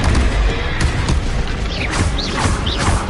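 Spell blasts from the Confringo fire curse in Hogwarts Legacy, a dense, continuous barrage of booming bursts and crackling impacts with whooshing streaks, loud and close with no pauses.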